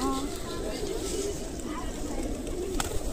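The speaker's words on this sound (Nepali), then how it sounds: "परेवालाई चामल हालिदिउँ हामी" Pigeons cooing while being fed rice at Pashupatinath temple in Kathmandu, soft repeated coos mixed with outdoor crowd noise as people talk nearby.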